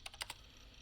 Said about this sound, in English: Her touch typing was effortless